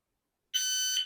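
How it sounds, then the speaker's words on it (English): A single sustained electronic shot timer beep, sharp and shrill, starting abruptly after silence and holding steady for about half a second. "So get used to the beep, and always set it to like a 1 or 2 second timer"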